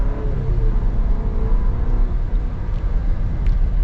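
A 2024 Chevy Traverse RS accelerates on a short test drive, heard from inside the cabin as a loud, steady engine drone and road rumble that holds constant throughout.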